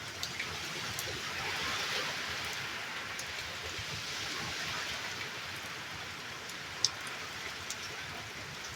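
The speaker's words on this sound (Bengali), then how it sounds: "বৃষ্টিও হয়েছে, ঝড়টাও ছেড়েছে।" Heavy rain from Cyclone Remal falling before dawn, a steady dense hiss of rain on surfaces with faint wind, evenly sustained throughout with one sharp knock near the end.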